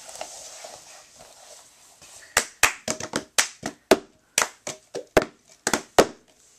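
Cup song rhythm played with hand claps and taps and slaps of a cup on a table. A quiet lead-in is followed by a crisp, close pattern of about sixteen sharp hits in a steady groove.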